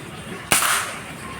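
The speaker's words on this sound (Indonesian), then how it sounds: "Tembakan kedua" Marauder PCP air rifle firing a 10-gram Streamline pellet, one sharp close crack followed by a brief fading hiss, with background noise throughout.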